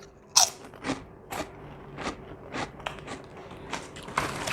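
Crisp, close crunching and biting on Balinese keripik kul, fried snail chips, a sharp bite followed by a steady run of crackly chews spaced about every half second.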